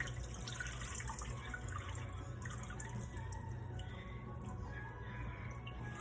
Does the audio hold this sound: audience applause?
no